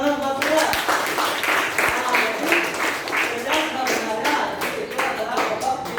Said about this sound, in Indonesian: beri tepuk tangan buat saya